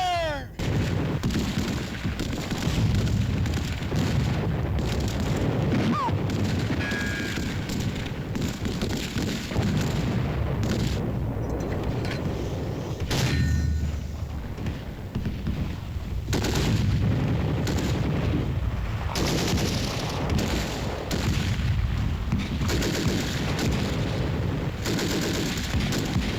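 Dense battlefield gunfire with artillery booms and machine-gun bursts, loud and continuous, with shouting voices briefly heard amid the firing.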